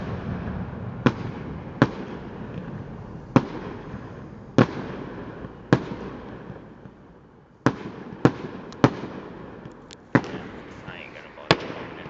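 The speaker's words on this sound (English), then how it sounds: "Damariscotta Fireworks 2014." Distant fireworks display in Damariscotta, heard as about a dozen sharp, far-off bangs spaced irregularly over a steady low rumble of background noise, with faint voices in the crowd.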